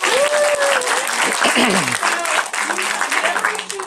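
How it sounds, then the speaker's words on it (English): At a family improv comedy show, an audience claps for a child volunteer in a short, loud, close burst, mixed with voices and a child's high-pitched chatter. "All right, everybody give Evie a big clap."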